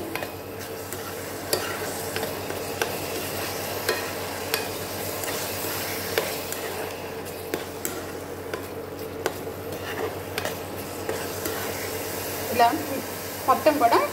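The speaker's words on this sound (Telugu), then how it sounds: "ఇప్పుడే బాగా తిప్పుకుంటూ ఉండాలి ఇది టైట్ అయ్యే వరకు కూడా ఇలా తిప్పాలి" A spoon stirs thick radish halwa round a pan on medium flame, giving a steady soft scraping and faint sizzle throughout, with a few sharper clinks near the end.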